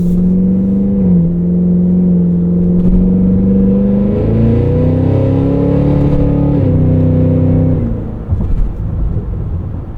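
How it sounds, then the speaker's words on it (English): Cadillac Escalade V engine in V mode while driving, a loud steady rumbling drone with shifting pitch as revs rise and settle, heard from inside the cabin with no talk. "the engine note will still be pretty loud"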